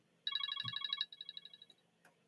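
A telephone rings with a bright, warbling electronic trill, one long ring followed by a softer fading repeat, close and clear against a quiet room, with a brief click at the end.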